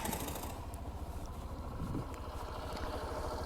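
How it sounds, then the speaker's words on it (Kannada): A Suzuki Access 125 scooter idles close by, its exhaust putting out a low, steady, rapid thumping rumble with no voices over it. "ಸೊ ಇದು ಸೈಲೆನ್ಸರ್ ಸೌಂಡ್."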